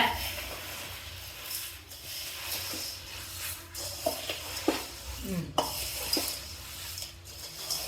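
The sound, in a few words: stirring roasted dal in a pan, stove off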